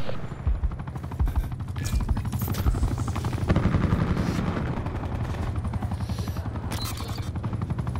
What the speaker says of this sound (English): Enemy attack chopper above.